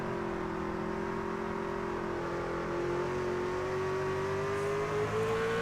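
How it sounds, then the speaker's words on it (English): A race truck engine droning steadily as the driver modulates the throttle, a continuous close in-car tone rising slowly in pitch over several seconds. "So you can hear the throttle control on Michael Sensi."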